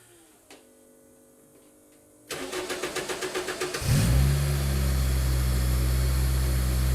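A Honda K20 engine cranks in quick rhythmic starter pulses after some quiet ticking, then catches and settles into a loud, steady running roar close by.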